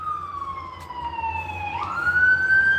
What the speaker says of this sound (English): Hate when the ambulance come by, but hopefully they get to whoever they got to get to safely.